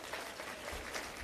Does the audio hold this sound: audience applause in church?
yes